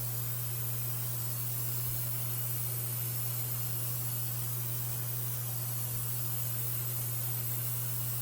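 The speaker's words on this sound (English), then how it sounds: "This is a Kandy black, and I'm doing it out of an airbrush" An airbrush spraying Kandy black automotive paint gives a steady, even hiss with a low hum beneath it, continuous and unbroken for about eight seconds.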